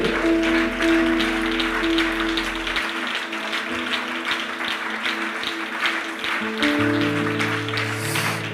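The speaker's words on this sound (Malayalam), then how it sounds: "നല്ല കൈയടിച്ച്, നല്ല കൈയടിച്ച്" A church congregation claps along in steady, rhythmic beats during lively worship music, the hand claps dense and continuous throughout.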